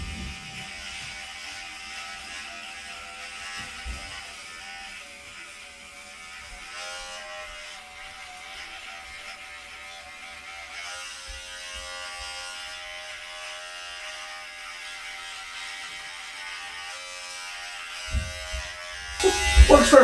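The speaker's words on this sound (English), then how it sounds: "let's go ahead and do the man trimmer. We're gonna do a test and see how well it works." A MANSPOT electric hair trimmer runs close by with a steady, high-pitched buzzing drone that lasts about twenty seconds. The pitch rises and the buzz roughens briefly near the end.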